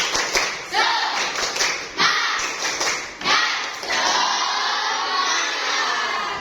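A classroom of children does the 'tepuk semangat' clapping chant again, tight patterned claps and thumps under loud unison chanting, closing on a long crowd cheer.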